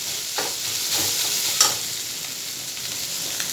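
Lati fish kebab frying in a pan, a constant close sizzle with a few scraping stirs of a utensil against the pan.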